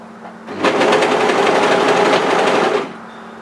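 A serger overlocks the bottom hem of a hoodie, its fast motor whirring in one steady, loud run for about two seconds before stopping, close by with no talk.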